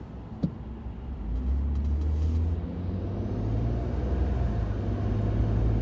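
A car drives along Hastings Street in Vancouver, a steady low engine and road rumble from inside the cabin, with a brief click near the start and city traffic faintly around.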